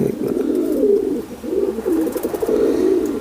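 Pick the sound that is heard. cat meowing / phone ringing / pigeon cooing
pigeon cooing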